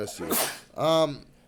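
A single sharp sneeze bursts out close by in a quiet room, a short breathy blast followed by a voiced tail, with no other sounds around it.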